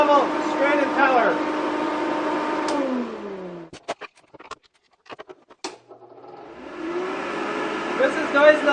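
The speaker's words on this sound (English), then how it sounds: "This is noise level, straight impeller." Small homemade blower with a straight impeller running, a loud whirring hum with a pitch that rises and falls, cutting out in the middle with clicks and then spinning back up.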